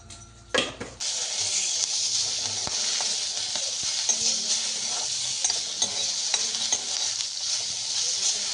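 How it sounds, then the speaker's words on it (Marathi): Green chillies fried in hot oil for a home-style methi bhaji, with a loud, steady sizzle starting just after a short clatter and continuing without a break. "सर्वात अगोदर थोड्याशा मिरच्या तळून घेते."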